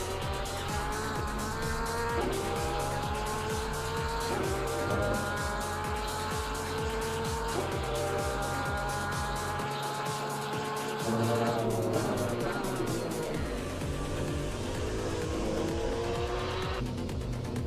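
Loud, steady Porsche race car engine from Assetto Corsa Competizione at Donington Park, revving up and down through gear shifts with tire squeal in places, continuous and close throughout.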